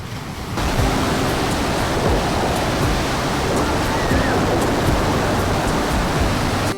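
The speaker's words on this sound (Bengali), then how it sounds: "দারুণ ঢেউ দিচ্ছে।" Steady roar of surf washing onto Puri beach, continuous and fairly loud with wind noise mixed in, no clear pauses between waves.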